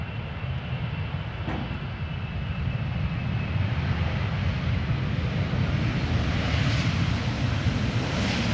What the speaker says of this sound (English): Now the Emirates triple is landing